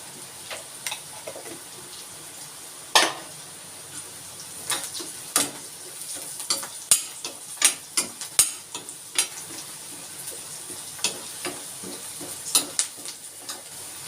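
Kasuri methi, dried fenugreek, goes into a pan of sizzling vegetables, a soft steady fry under a run of sharp irregular stirring scrapes and taps, close and fairly loud, no talk.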